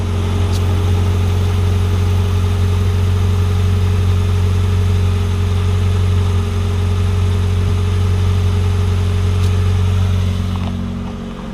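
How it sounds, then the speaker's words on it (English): Steady, loud drone of an air compressor running continuously to fill an air ride tank on a lowered vehicle, a constant low hum with a faint tail-off at the very end. "I'll let the compressor fill the tank up"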